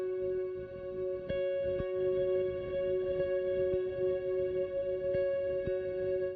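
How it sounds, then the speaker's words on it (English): Soft guitar notes hang in a washed-out ambient pad drenched in reverb, with a few faint plucks ringing over a long, shimmering sustain. "I'm just softly plucking two notes on my guitar and adding a bunch of interesting sounding reverb to it."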